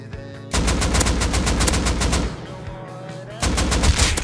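Rapid bursts of gunfire from the video game Rust ring out loud and close, a sustained volley after a short lull, then a gap with a faint tone before another burst resumes.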